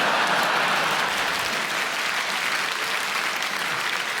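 A comedy club audience applauds steadily and loudly, a dense wash of clapping that holds for several seconds with no talking.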